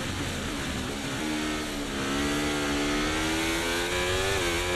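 Formula 1 race car engine in a racing video game, a loud continuous high-pitched whine holding steady and rising slightly as it revs, alone without talk.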